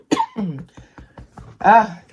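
A run of short, dry coughs and throat-clearing bursts, close by, ending in a louder rough cough.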